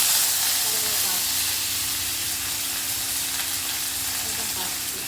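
Mustard seeds and cumin seeds hit hot oil and produce a loud, continuous hissing sizzle. It holds steady and close for the whole stretch with no talk over it.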